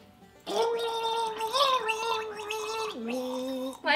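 A performer gargles water while singing a Broadway show tune, the bubbling voice carrying a sustained, wavering melody loud and close throughout, with a brief pause and pitch drop near the end.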